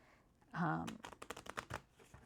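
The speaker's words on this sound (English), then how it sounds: "So I'm just going to give them a bit of a shuffle." Board game cards for a flower-scoring game are shuffled by hand, a short riffle followed by a quick run of soft card flicks and taps, close and fairly quiet.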